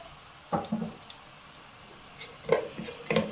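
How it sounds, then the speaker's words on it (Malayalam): Two sliced onions go into a pan for sautéing in a one-pot Kannur-style prawn rice, with a few soft clatters and scrapes of a spoon against the pan, quiet and close, separated by near-silence. "ഞാനൊരു 2 സവാള അരിഞ്ഞു വെച്ചതാണ്. അത് നമുക്കിതിലേക്ക് ചേർത്ത് വഴറ്റിയെടുക്കാം."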